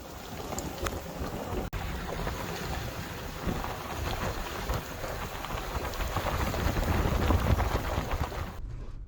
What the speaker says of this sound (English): any sun that we had had for the morning had given way to rain.